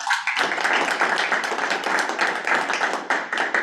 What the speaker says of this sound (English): just a round of applause, please, for great community work